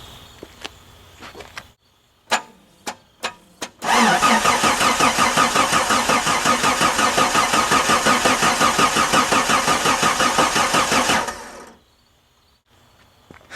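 A few short clicks, then the 4.6L stroker V8 of an '89 Cherokee cranks steadily with a rapid rhythmic chugging for about seven seconds at its first start, never catching, before cutting off to silence.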